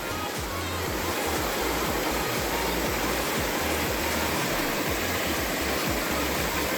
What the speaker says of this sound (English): cool waterfall